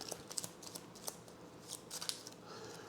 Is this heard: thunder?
no